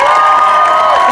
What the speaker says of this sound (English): I want you all to give a big round of applause to my dear friend, Mark Curran, your next senator.